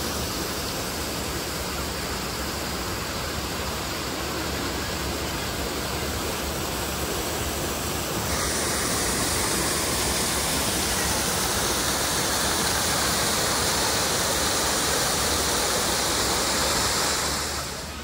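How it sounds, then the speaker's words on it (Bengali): Waterfall at Nrusinghanath Temple in Odisha, a steady loud roar of water falling continuously and heard alone without a break, at lower volume than in the rainy season. "অবিরাম পড়তে থাকে জল"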